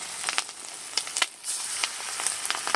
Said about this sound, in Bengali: এবারে এক এক টুকরো আমি নিয়ে এভাবে কড়াইতে দিয়ে দেবো।